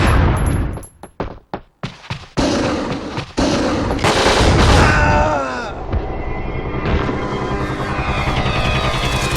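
Rapid gunfire and explosive bursts from a PlayStation action shooter with handguns, shotguns, machine guns and rocket launchers, starting as sharp separated shots, then a dense, loud continuous barrage with clattering effects.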